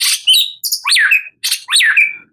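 A caged songbird chirping loudly and close, several sharp rising-and-falling tweets in quick clusters with brief pauses between, alone without voices.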